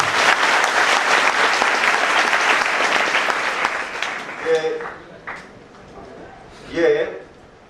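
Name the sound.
audience applauding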